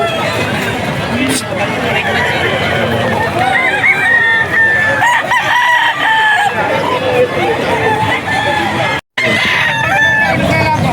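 A Spartan Black gamefowl rooster crows loudly at a busy pet market. The drawn-out crows rise over clucking birds and a constant babble of crowd voices, and people talk nearby.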